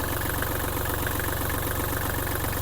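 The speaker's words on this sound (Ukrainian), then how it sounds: "Тракторець працює справно." A Kubota GL-21 mini tractor's small diesel engine idles close by with a steady, rhythmic low chugging and faint rattling vibration throughout.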